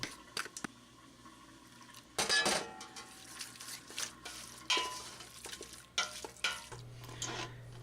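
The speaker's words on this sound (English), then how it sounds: "Now toss the cabbage with the melted butter." Drained cabbage being tossed with melted butter in a bowl for colcannon, giving soft scattered clinks and stirring scrapes with a few brief louder clatters.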